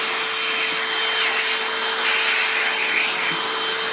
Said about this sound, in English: right here you have your dusting brush. For dusting, like say right here.